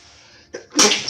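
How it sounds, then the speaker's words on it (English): A single loud, close sneeze bursts out after a short intake of breath, standing alone against a quiet room background. "I'm sneezing all over the place."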